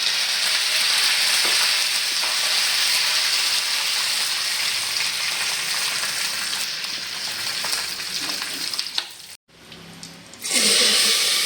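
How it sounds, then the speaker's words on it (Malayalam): Mustard seeds, chillies and curry leaves sizzle and crackle loudly in hot oil for a green gram curry tempering, a dense continuous hiss with spattering, then a brief drop to silence and a fresh burst of sizzling. "കടു പൊട്ടി തുടങ്ങിയാലേക്ക് നമുക്ക് മുളകിട്ട് കൊടുക്കാം ഒരു രണ്ട് കറിവേപ്പില"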